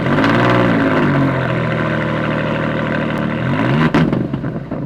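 An Alfa Romeo Quadrifoglio with a titanium Quicksilver valve-controlled exhaust and carbon-fibre spoiler rumbles loud and close, settling from a rev into a deep steady burble before a quick blip near the end.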